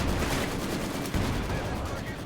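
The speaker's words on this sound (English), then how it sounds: "So the mortar's just going to hit right here and wipe them all out in a second." Mortar fire and explosions hitting infantry in Company of Heroes 2, a dense, loud burst of blasts and crackling gunfire lasting a couple of seconds, close and continuous.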